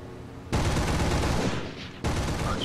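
Bf 110 machine guns and cannon in War Thunder fire two sustained bursts, a short one at first then a longer roaring stream, loud and dense, continuing to the end with no talk.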